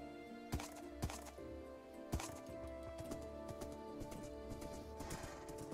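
A horse in the Minecraft video game clip-clops in sparse, quiet hoofsteps, with a few sharp, separate knocks early on and then a softer patter, and no talking.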